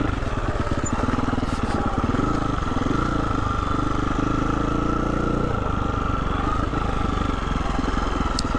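Husqvarna motorcycle engine running at a steady idle, a loud continuous mechanical rumble close by with constant level throughout and a slight shift in tone midway.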